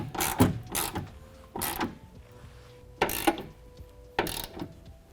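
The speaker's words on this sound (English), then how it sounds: "we'll go ahead and tighten these back up with that 13mm socket" Ratchet with a 13mm socket tightening hood hinge bolts on a 2021-2022 Ford F-150, giving four short bursts of clicking at roughly one-second intervals, close up with quiet between.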